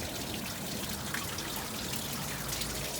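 Filtered spring water trickles softly in a mountain spring near Moab where watercress grows, a faint, steady dribbling heard alone and close for a few seconds.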